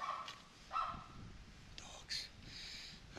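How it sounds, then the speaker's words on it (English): Dogs bark in short repeated bursts at a moderate distance, with a few sharp yelps separated by brief pauses in a quiet home setting. "These ones just bark continuously."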